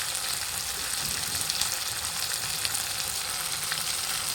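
Chopped tomatoes with garlic paste frying in a pan for dhaba-style dal tadka, a steady, close, even sizzle with nothing else over it.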